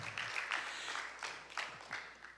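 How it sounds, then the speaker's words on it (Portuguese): Church congregation applauding during a worship service, a fairly soft, diffuse patter of clapping in bursts over a couple of seconds. "Você pode dar uma salva de palmas a esse Deus maravilhoso?"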